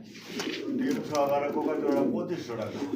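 Pigeons in a Bangladeshi pigeon market coo softly and repeatedly close by, their low throaty calls running under steady talk from several people.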